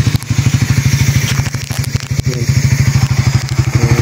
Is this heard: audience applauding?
no